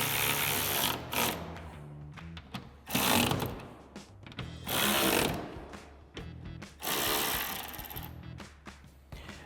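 A T50 Torx driver retightening bolts on a DV8 Offroad rear storage security cover in a Jeep Wrangler JL, heard as loud, close bursts of ratcheting and mechanical whirring separated by short pauses.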